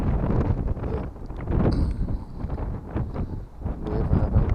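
Wind gusts across a riverbank fishing spot, buffeting the microphone in uneven rumbling waves with faint rustling underneath, fairly quiet and without speech.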